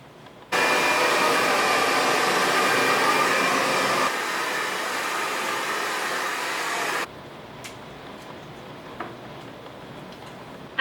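A hair dryer blows on hair after washing, a loud continuous roar that steps down to a lower setting and then drops to a quieter rustling hiss.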